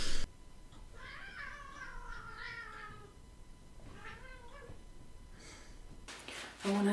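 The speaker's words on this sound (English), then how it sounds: "Now I have two chaotic cats." Two cats meow in drawn-out, wavering calls, one long yowl followed by a shorter one, fairly close in a quiet room, with brief noises at the start and end.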